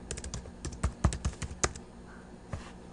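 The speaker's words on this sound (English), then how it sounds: "and then type class assignments" Computer keyboard keys tapped in quick irregular bursts, a dense cluster of close, crisp clicks followed by a pause and a single final keystroke, with no voices.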